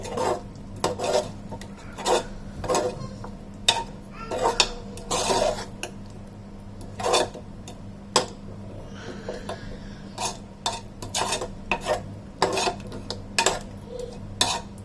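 A spoon scrapes and knocks around a pan again and again in an uneven rhythm, mixing thick chicken curry close by.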